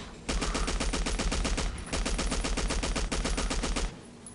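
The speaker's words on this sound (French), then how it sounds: "Je tire désespérément." Sustained rapid automatic gunfire from the video game Battlefield 1942 rattles loud and close in two long bursts separated by a brief pause, with no talking.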